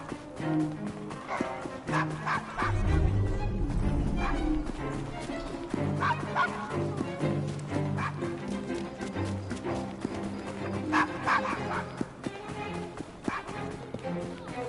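Dog barking and yipping in a PS4 game set at a pub, the barks rising over busy game music and ambient sound, with someone talking at times.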